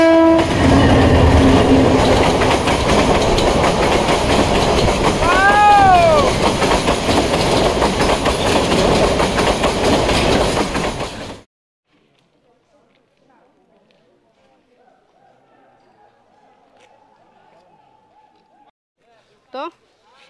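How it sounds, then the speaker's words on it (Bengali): A train rumbles loudly along a railway line at Sreemangal for about eleven seconds with a rising whine midway, then cuts to near silence broken by one faint sharp sound. "এই রেল লাইনে কিন্তু এখনও ট্রেন চলাচল করে"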